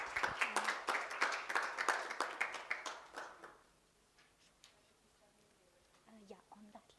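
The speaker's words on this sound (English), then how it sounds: "Round of applause, everyone." Applause and clapping from an audience at a pitch competition for about three seconds, then fading into a quieter room with scattered faint sounds.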